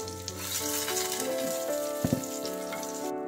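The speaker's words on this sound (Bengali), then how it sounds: "রিং রিং করে যে পেঁয়াজগুলো কেটে রেখেছিলাম সরু সুতোর মতো সেগুলো ভাজব" Thinly sliced onion rings fry in ghee in a pan for paneer do pyaza, a loud close continuous sizzle with a couple of sharp clinks partway through.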